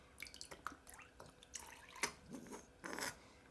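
Water drips and trickles at a sink while a TWSBI 580ALR fountain pen nib is washed, soft close splashes arriving in small irregular bursts at low volume.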